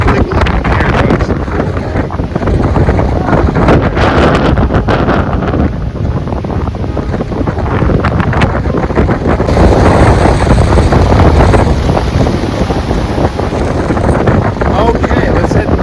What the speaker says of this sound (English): Because it's windy out there.